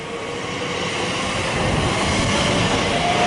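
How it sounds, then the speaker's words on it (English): A Great Western Railway IET passenger train running from Oxford to London Paddington passes through Ealing Broadway station on the Great Western Main Line, giving a loud, steady rumble and roar of wheels on rail that builds slightly over the few seconds. "We've got a passing Great Western Railway IET from Oxford to London Paddington."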